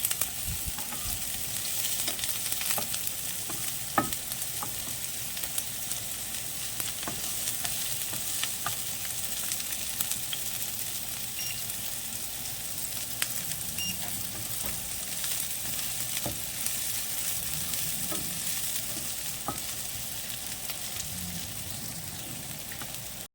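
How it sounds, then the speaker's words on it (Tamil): Onions, tomato and ginger-garlic paste sauté in a pan for egg kothu chapathi. A constant, moderate sizzle runs throughout, dotted with small pops and light clicks from stirring, and there is no speech. "வெங்காயம் நல்லா வதங்கினதுக்கு அப்புறம் நம்ம தக்காளியை போட்டு இஞ்சி பூண்டு பேஸ்ட் போட்டுக்க போகிறோம்."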